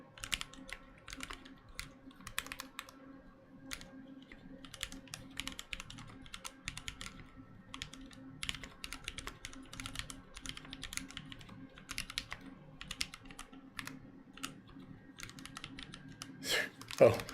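A typing test runs on an E6-V2 mechanical keyboard fitted with lubed, retooled black switches, producing steady, fairly soft key clatter throughout while a voice talks quietly underneath.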